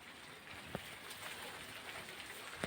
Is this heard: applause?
no